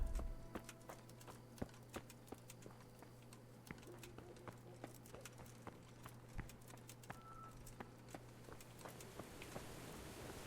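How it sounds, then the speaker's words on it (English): Horse hooves clip-clopping in a medieval open-world video game, a faint, sparse series of separate hoof strikes at an uneven pace, set against a steady low hum. "Maybe that's the miller's horse."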